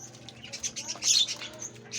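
Farm birds chirp and tweet in short, scattered bursts with some wing flapping, fairly close, over a low steady background hum.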